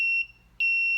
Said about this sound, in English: If I continue to move further towards it, the beeping continues to increase